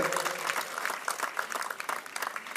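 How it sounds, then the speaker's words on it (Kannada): Audience applause rings out at a stage celebration event: dense, steady clapping from a crowd, fairly close, with a few sharper claps standing out and no talk over it. "ದಯಮಾಡಿ ತಾವೆಲ್ಲ ಜೋರಾಗಿ ಚಪ್ಪಾಳೆ ಅಂದರೆ ಶಿವಕುಮಾರ್ ಅವರಿಗೆ"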